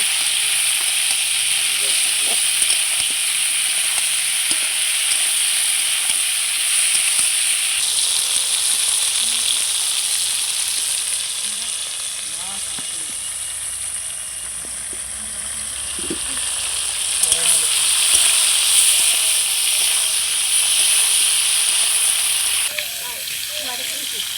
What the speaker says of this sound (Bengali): লবণ হলুদ দিয়ে খুব সুন্দর করে আমি ফুলকপিটাকে আবারও ভেজে নেব।